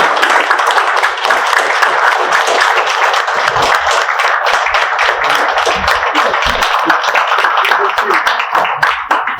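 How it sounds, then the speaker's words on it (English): Audience applause for police officers at a city council meeting, a dense, steady round of clapping sustained for about nine seconds, loud and close throughout. "So let's give our police officers a round of applause."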